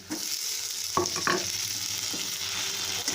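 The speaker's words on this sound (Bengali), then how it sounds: "আদা রসুনটা পেঁয়াজটার সাথে সাথে ভাজা হয়ে গেছে এবার দিয়ে দেবো এর মধ্যে কেটে রাখা টমেটো" Steady hiss of onion, ginger, garlic and tomato frying in a pan, with a few clinks and scrapes of a spoon stirring through it; no voices.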